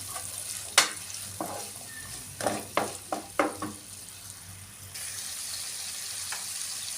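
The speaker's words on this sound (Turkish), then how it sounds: "Bunlar iyice pembeleşinceye kadar kavuracağım." Soft sizzling of onions sautéing in a pan under a steady background hiss, with several clattering stirs and scrapes in the middle.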